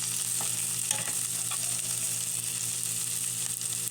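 Pork siomai filling sautéing in a hot pan, a steady close sizzle and crackle with occasional stirring scrapes, continuous and alone.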